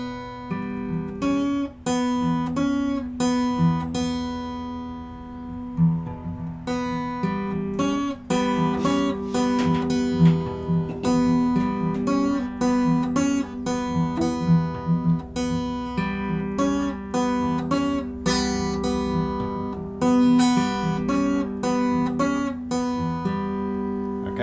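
Guitar playing a riff, fingerpicked with thumb and first finger using bends and open strings: clean plucked notes in a steady repeating pattern over a droning low string, clear and unaccompanied.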